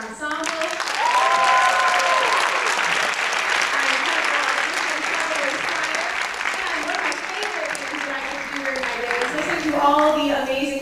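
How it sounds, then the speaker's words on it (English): A school spring choir concert audience applauds its ensemble with a sustained, dense wave of clapping and scattered cheering voices that holds throughout. "one more round of applause for our ensemble"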